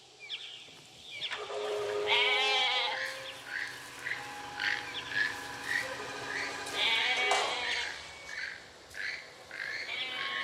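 A goat bleats in wavering, drawn-out calls, first alone and later again, with small birds or frogs chirping and peeping steadily around it.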